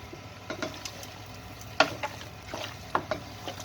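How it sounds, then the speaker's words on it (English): Garlic and onions fry in a pan in a Goa curry kitchen, a soft, steady sizzle broken by scattered clinks and scrapes as the pan is stirred. "6 to 8 cloves of garlic and a couple of onions per 2 kilo batch. So we want to cook those off nicely."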